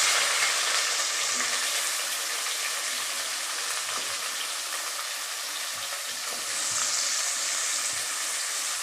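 Two large sliced onions hiss and crackle steadily in hot oil for a home-style mushroom biryani, a continuous close sizzle with no talking.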